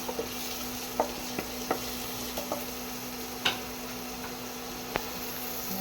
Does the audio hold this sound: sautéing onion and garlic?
yes